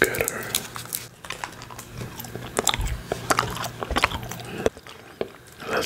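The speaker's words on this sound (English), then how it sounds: "So we have some chewing sounds and" Bubblicious cola bubble gum chewed close to the mic, with wet, sticky smacks and crunchy bites in a steady irregular rhythm, loud and intimate, with light keyboard clicks and a voice at times.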